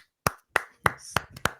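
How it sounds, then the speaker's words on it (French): A few people near the mic clap for a guest being welcomed onto a French TV show, five or six sharp separate claps with gaps between them and no voices. "Thibaut, sous vos applaudissements"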